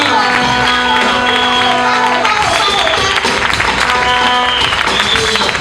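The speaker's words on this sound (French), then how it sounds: "on acclame le Seigneur pour la vie" Loud applause and cheering from a worship audience at a French-language evening vigil, with dense clapping and crowd noise throughout under music and a voice speaking.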